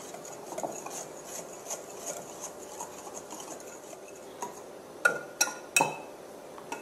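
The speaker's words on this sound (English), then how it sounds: "In a mixing bowl, combine your flour, baking soda, salt, and cinnamon powder." Flour, baking soda, salt and cinnamon are stirred together in a mixing bowl, with soft rhythmic scraping and light rubbing, then a few sharp utensil clinks against the bowl near the end.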